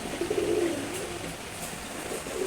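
A pair of pigeons cooing softly, low throaty coos at the start and again near the end, faint and close with light background noise.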